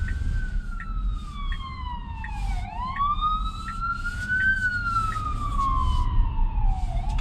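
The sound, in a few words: ambulance siren passing on the road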